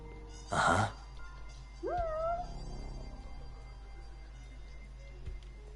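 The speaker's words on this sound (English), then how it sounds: "I hear the cat, but I don't know where he is" A cat in the video game Judgment gives a single clear, rising meow, moderately close, over a low steady background hum with a few faint clicks around it.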